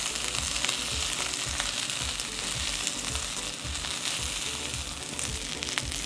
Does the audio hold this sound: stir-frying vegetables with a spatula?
yes